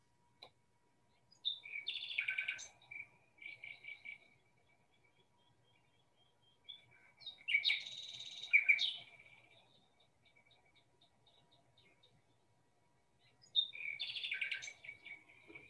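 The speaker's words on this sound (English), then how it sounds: "here's a nightingale to finish" Recorded nightingale song played back from a phone app, three bursts of rich, varied whistles, trills and chirps separated by silence, clear and fairly close, with no talking.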